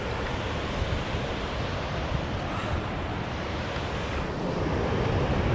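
Cold Himalayan mountain stream rushing steadily over rocks, a continuous broadband roar with no pauses, close by and moderately loud, with no voices.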